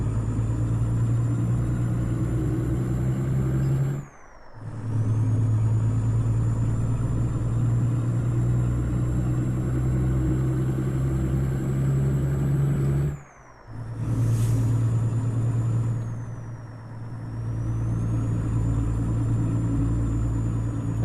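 A heavy truck engine in Euro Truck Simulator, driven in the wrong gear on roundabout-filled roads, drones steadily at low pitch with a rising and falling whine, cut briefly by two short gaps.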